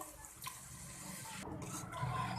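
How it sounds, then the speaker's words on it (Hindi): Water is splashed into masala frying in a pan for Hyderabadi egg korma, a brief watery hiss and sizzle that settles into a soft, steady simmer. "हल्का सा इसमें पानी का छींटा लगाएंगे ताकि फ्लेवर इन्हेंस हो जाए।"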